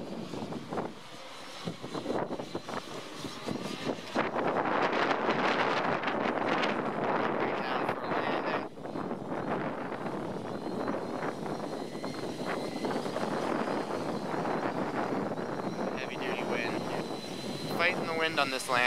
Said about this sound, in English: I'm getting scared all this wind.